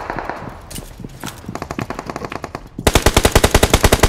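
Gunfire in the mobile shooter BGMI / PUBG Mobile, with scattered shots giving way to rapid automatic bursts that end in a loud, sustained machine-gun volley, with no talking.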